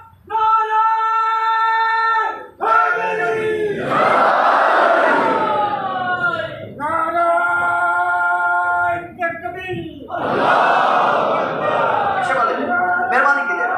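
A religious gathering at a central imambargah in Bagh, Azad Kashmir, roars back a loud, harmonised slogan response in repeated surges, each burst a sustained chorus of many voices, cutting off abruptly between calls.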